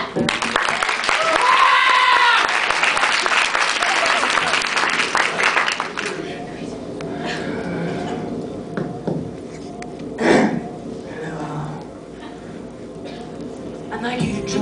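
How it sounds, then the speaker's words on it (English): A theatre audience bursts into loud, dense applause for about six seconds, then the clapping dies away into quieter stage sounds and a voice speaking. "Clap it up."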